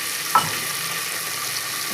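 Garlic chutney frying in oil for a vegetable curry gives a steady, close hiss of sizzling with one brief clink near the start, and no voices.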